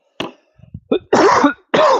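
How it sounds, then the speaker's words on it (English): Three harsh, dry coughs in quick bursts with short pauses between, preceded by a brief throat-clearing sound; close and fairly loud. "I'm just coughing."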